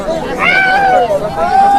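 Dense crowd hubbub at the Kanaisor hilltop Pahad Puja fair, a steady babble of many voices with one clearer voice rising briefly above the close, continuous din.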